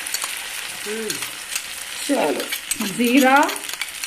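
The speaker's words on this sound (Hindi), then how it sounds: "जैसे प्याज थोड़ी हल्की अच्छी फ्राई हो जाती ना" Onions and curry leaves frying in a pan, a steady broad sizzle running throughout under a voice speaking Hindi.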